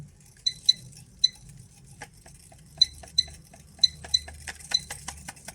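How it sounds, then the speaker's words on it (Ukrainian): Loose circuit boards and a bit of glass rattling inside a Jupiter SIM05 dosimeter, heard as sparse light clinks and ticks in irregular bursts, close and fairly quiet over a low background hum. "Там бовтаються всі плати, так не має бути і ще щось калата, якесь скло"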